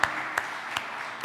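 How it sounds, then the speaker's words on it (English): Light applause from a conference audience at an aviation event at Cluj international airport, soft scattered clapping with a few distinct claps standing out, fairly faint. "A big applause to this distinguished panel."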